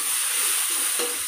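Spices frying in leftover oil from frying jengkol give a steady, close hiss of sizzling, with no talking over it.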